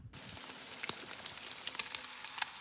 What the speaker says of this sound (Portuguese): Fritando aqui um café da manhã, uma calabresa.